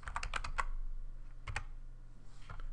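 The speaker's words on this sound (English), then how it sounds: "So let's type that in right now." Typing on a computer keyboard during a Java programming tutorial, a quick run of close, crisp key clicks followed by a couple more taps after a pause, with no talking.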